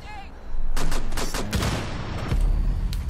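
Gunfire in the video game Rainbow Six Siege: several rapid bursts of shots ring out loudly, with player talk mixed in.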